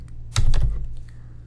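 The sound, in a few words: computer keyboard keys being pressed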